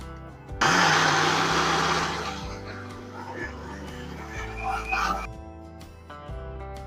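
A mixer grinder whirs loudly as it grinds cooked dal into a purnam filling for burelu, a harsh rushing hum that fades and then stops, with a low background drone and a few faint sounds.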